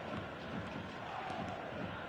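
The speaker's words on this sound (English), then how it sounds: "The crowd are calling for this to be put to bed." A stadium crowd in the eFootball video game keeps up a steady, dense roar of murmuring and chanting throughout, moderately loud with no distinct peaks.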